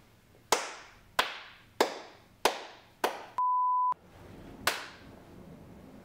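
A series of sharp single hand claps, about six, spaced roughly half a second apart, each ringing briefly in the room, with a steady electronic beep tone sounding between them before a final clap, marking the start of a take.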